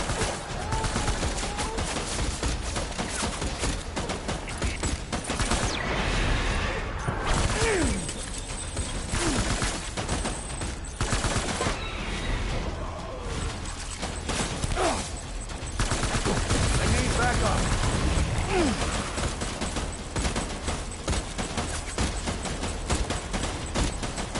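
Heavy gunfire erupts in the Death Stranding: Director's Cut game, dense bursts of automatic and single shots crackling near and far in waves, mixed with impacts and debris, loud throughout.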